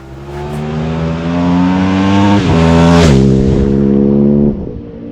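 An Aprilia RSVR 1000 Factory motorcycle roars past at full throttle, a loud rising engine note that drops sharply in pitch as it passes and then fades away.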